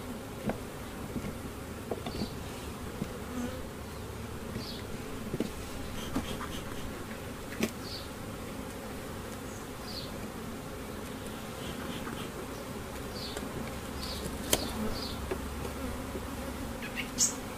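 Honey bees buzz steadily and continuously, a dense hum with occasional individual bees passing close; no talking.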